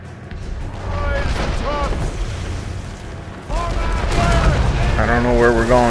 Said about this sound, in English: I feel like these explosions are set up.